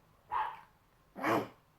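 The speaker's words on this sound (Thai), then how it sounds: "หมามันเห่าอยู่ข้างนอก" A dog barks twice outdoors, two separate moderately loud yaps with a short pause between, heard from inside a home with no talking.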